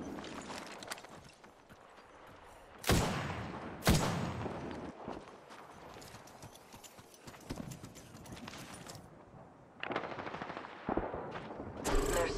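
Gunfire in Apex Legends, heard as loud sharp shots and rapid bursts scattered through a busy stretch of game noise, with quieter pauses between the loudest volleys.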